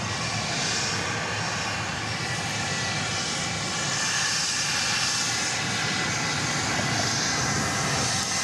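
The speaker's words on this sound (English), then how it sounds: "this plane was just cleared for takeoff" Jet airliner taking off from a runway at Dallas Love Field, a continuous loud roar and rushing hiss of engines at full thrust, sustained and steady at moderate distance with no talk.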